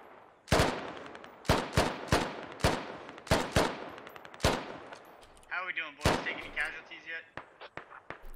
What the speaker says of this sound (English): You can also see some mortar rounds landing.